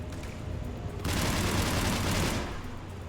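A large gun in Mass Effect 3 fires a heavy sustained barrage, a loud dense roar of rapid blasts that swells abruptly and holds for a couple of seconds before easing back, with no speech.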